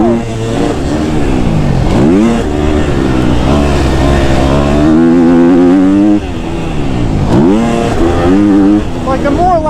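A KTM 250 SXF dirt bike screams at high RPM, loud and close, with rising and falling engine pitch as it accelerates through the gears and shifts. A rider speaks over it.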